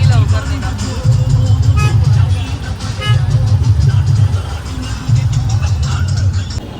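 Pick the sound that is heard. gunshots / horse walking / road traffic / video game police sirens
road traffic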